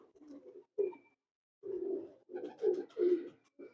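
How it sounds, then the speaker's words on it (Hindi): Gamagar pigeons cooing close by in a series of soft, throaty, rolling coos with short pauses between them, a brief faint whistle-like note also present, no talking. "ये जी गमागर कबूतर है जी।"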